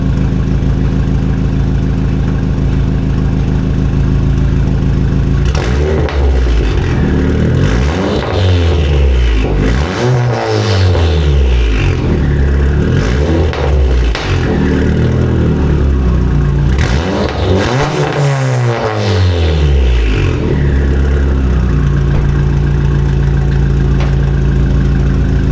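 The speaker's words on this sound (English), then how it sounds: "Straight piped. It's loud. You can hear the turbo a lot though" A turbocharged car engine on 2.5-inch straight pipes with no mufflers or resonators idles loudly, then revs hard in several bursts and settles back to idle, with turbo whoosh audible over the raw exhaust.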